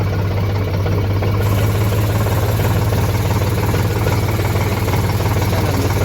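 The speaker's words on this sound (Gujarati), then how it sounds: "ચાલો આપણે ટ્રેક્ટર મિત્રો થોડુંક છે ને બહાર કાઢી દઈએ" A tractor engine idles close by with a steady, even low rumble that runs through the whole stretch. No one speaks over it.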